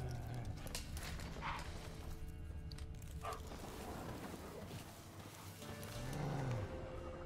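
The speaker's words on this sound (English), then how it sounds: "There's some nice funky sounding dogs." Dogs bark now and then in The Witcher 3 Wild Hunt, with a few short, scattered barks kept quiet and distant under a steady game ambience.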